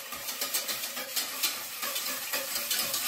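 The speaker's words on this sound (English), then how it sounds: "One nice tablespoon of the rennet in there. Give it a good whisk around." A whisk rhythmically stirs rennet into milk in a pot for homemade ricotta, making close, steady swishing and sloshing strokes with soft regular pulses.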